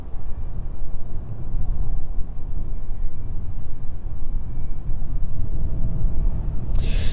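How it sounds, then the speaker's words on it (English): Boeing 747 cargo jet engines start up at East Midlands Airport, giving a steady, low, distant roar that holds evenly throughout. "Fair bit of noise coming from that direction anyway, as those engines do start up."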